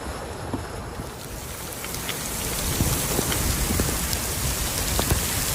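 Rain falling in Taif, a steady soft hiss of drops pattering on surfaces with scattered individual splashes, even and moderately close, with no voices.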